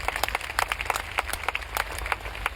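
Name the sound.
audience applause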